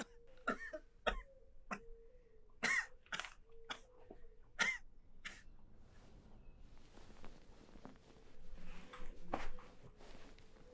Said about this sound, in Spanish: Tiene tos seca constante